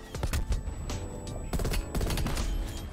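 Dense, sustained gunfire from Call of Duty Black Ops Cold War, with rapid overlapping shots and bursts filling the whole stretch and loud, close impacts throughout.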